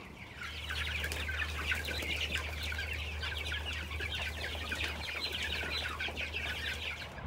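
Young chickens cluck and chirp continuously in a chattering flock, with a steady low hum underneath.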